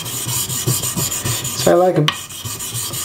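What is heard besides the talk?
carbon steel blade sharpened on King whetstone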